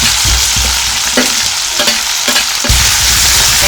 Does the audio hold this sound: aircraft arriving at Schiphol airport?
no